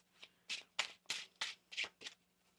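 A tarot card deck being shuffled by hand, six quick riffling bursts in a steady rhythm, close and crisp, with no talking.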